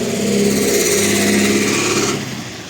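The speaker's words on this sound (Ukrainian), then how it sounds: "Маршрутка все-таки трошки наша їде." A marshrutka minibus drives past through snow during a blizzard in Truskavets, its engine a steady, fairly loud drone that fades slightly near the end, with no voices.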